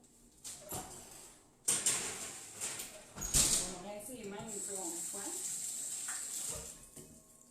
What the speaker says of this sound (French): Je vais me rincer les mains une seconde fois